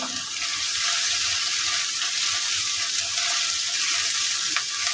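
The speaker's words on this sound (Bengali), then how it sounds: "তো এখানে আমি এই সময় চিংড়িগুলো দিয়ে দিব।" Prawns hiss loudly in a pan with lightly fried chopped onion and garlic, a continuous close sizzle with faint crackles and the occasional stir, and no talking.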